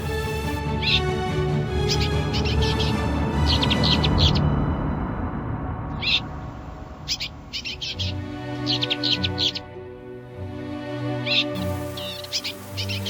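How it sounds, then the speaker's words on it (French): A Dartford warbler sings in open heathland in Côtes d'Armor, giving repeated short scratchy bursts of song at moderate distance over a steady low background hum. "Et la fauvette pitchou."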